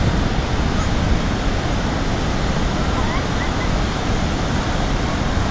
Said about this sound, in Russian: И вот прут волны.